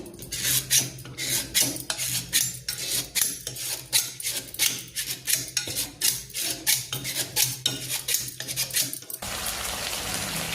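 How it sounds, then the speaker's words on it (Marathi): Cooked tomatoes with skins removed being mashed for tomato chutney, a steady run of repeated scraping and clinking strokes of a utensil against a pan, close and fairly loud, with no talking. "आपण याला आता छान मॅश करून घ्यायचं"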